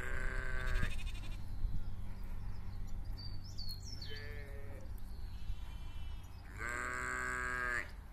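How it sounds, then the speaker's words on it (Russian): Rams in a farm pen bleat loudly and hoarsely in three long, wavering calls at the start, middle and end, with a steady low background rumble between them and no talking. "Никогда не слышала, чтоб так орали они. И чего они тут орут? Обычно тихие барашки."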